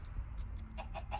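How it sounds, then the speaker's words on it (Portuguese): A Minecraft Story Mode chicken clucks in a short run of soft, evenly spaced clucks, growing a little clearer toward the end over a low background rumble. "Uma galinha de coroa?"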